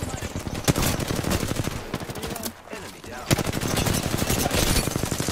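Rapid automatic gunfire from the video game Apex Legends, dense bursts of shots filling most of the stretch with a brief lull in the middle, loud and close with game sounds layered over it.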